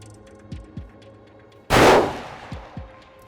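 A single loud, sharp rifle shot rings out while hunting antelope in New Mexico. It is followed by a decaying echo, with faint low thumps before and after.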